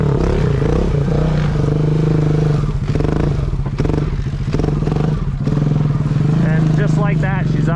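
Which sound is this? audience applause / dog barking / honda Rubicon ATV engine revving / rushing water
honda Rubicon ATV engine revving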